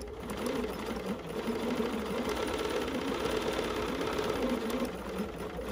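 A sewing machine set to a tiny 1.5 stitch length sews micro stippling on an embroidery sampler block, a fast, even, continuous mechanical chatter at close range that runs steadily with no pauses.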